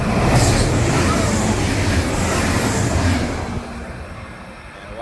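A train rushes past loudly and close, a rumbling roar of wheels and cars that fades quickly toward the end.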